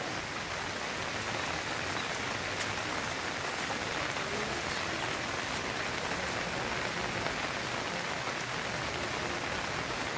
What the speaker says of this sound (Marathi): खूप असा पाऊस पडतोय.